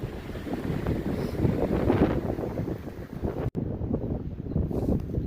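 Strong, chilly wind beside a lake buffets the microphone in a continuous low roar, gusting unevenly with a brief dropout midway.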